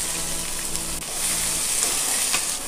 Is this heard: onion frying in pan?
yes